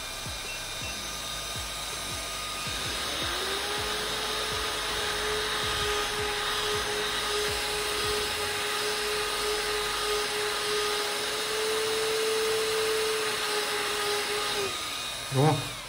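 A cheap electric fan running at full speed gives a steady, loud whirring drone with a sustained motor whine, holding constant for most of the stretch before a brief click and cutoff near the end.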